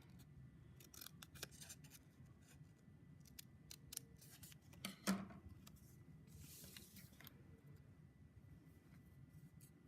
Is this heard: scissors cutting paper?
yes